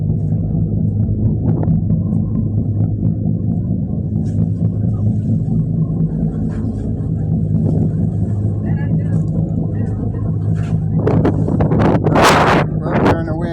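Wind buffets the microphone on a ferry deck over a steady low engine rumble. A voice speaks under the wind, and harsher gusts swell louder near the end.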